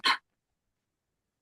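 A single short sneeze, close and fairly loud, bursting out abruptly and then falling silent during a live online meeting.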